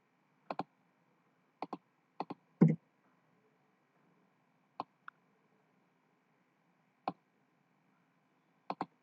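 Sharp, isolated keystrokes on a computer keyboard, close and fairly quiet, coming in small clusters with long pauses between them, ending with a firmer press of the enter key, no talking.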